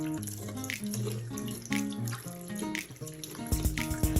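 Running water from a faucet pouring into a sink while hands are wetted for handwashing, a steady close splashing flow with some heavier splatter near the end.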